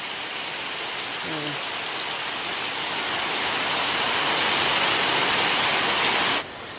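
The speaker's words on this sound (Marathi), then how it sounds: "झाडाबिड्यांचं काय करूच शकत नाही इतका हा मुसळधार पाऊस बघा पडतो" Heavy monsoon downpour pours steadily and loudly outdoors in Maharashtra, a dense unbroken hiss that swells slightly before cutting off near the end; a brief faint voice surfaces early on.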